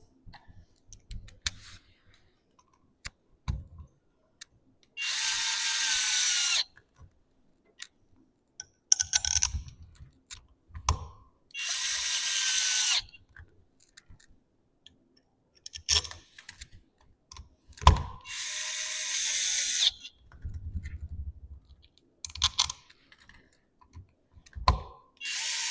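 A ratchet tightens the rear hub of a TravelScoot Escape mobility scooter, close bursts of fast clicking in several separate runs, with quiet clunks and handling noises in between.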